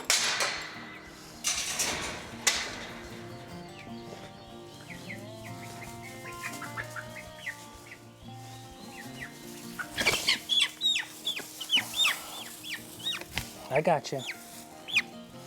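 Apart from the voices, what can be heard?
chicken clucking while being caught with a net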